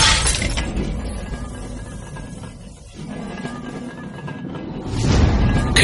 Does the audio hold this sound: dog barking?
no